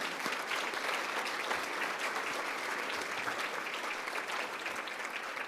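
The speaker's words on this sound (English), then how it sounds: "let's give these people a clap for the work they have enabled us to do" A gala audience claps together for the table hosts, a dense and unbroken wash of applause at a steady level from start to finish, with no voices standing out.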